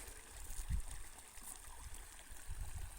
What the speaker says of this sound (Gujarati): આવું કંઈક પાણી આવે છે જો પચીસો ફૂટેથી નદીમાંથી આવે છે